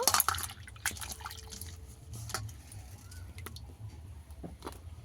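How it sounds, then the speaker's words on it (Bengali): Cut potatoes are rinsed in water by hand: a sloshing splash at the start, then soft, quiet trickles and drips, with no talking. "আলু ভালো করে ধুয়ে নেব।"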